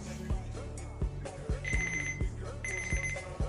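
A Philips TAR3205/98 FM clock radio sounds its normal alarm tone, repeating bright electronic beeps in quick pulses over a rhythmic clicking, loud and close.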